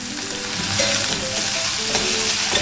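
Chopped tomatoes for a chicken curry sauté in a pan with a loud, continuous sizzle and occasional stirring scrapes, close up and without talk.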